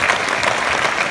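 Crowd applause fills a gathering celebrating a record year of sponsoring 300,000 new people: dense, steady clapping from many hands, close and fairly loud throughout without pause.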